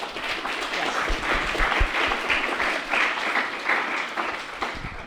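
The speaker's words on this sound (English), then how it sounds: "Let's give them a round of applause for helping us." Audience applause at an engineering honor society event, a dense burst of many hands clapping that holds steady for several seconds before easing slightly, with no speech over it.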